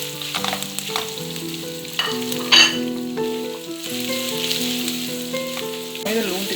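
Onions frying in hot oil with cumin and cinnamon for Sri Lankan tempered potatoes, a steady sizzle and crackle under melodic background music, with occasional spoon scrapes.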